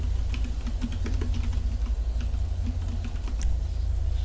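Rapid computer keyboard typing in an LSPD First Response police game session on PC, keys clattering in quick irregular bursts over a steady low hum, close and fairly loud.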